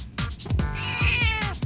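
A house cat meows several times in quick succession, close and clear, with drawn-out, wavering calls and no talking.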